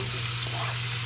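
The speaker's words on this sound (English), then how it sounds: "add salt and pepper and saute for 5 minutes." Onions and garlic sauté with salt and pepper in a pan, making a continuous close sizzling hiss over a faint steady hum.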